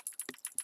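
A quick run of close, crisp keystrokes on a computer keyboard, about half a dozen clicks in under a second.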